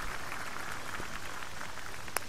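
Steady rain patters and hisses across a golf course in Tiger Woods PGA Tour 14, a constant wash of drops with one brief sharp tick near the end.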